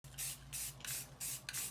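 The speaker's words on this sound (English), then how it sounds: "spray a light coat of filler primer" Filler primer hisses from an aerosol can onto a 3D printed object in four or five short bursts, each about a third of a second, close and fairly quiet, with the can's rattle low beneath.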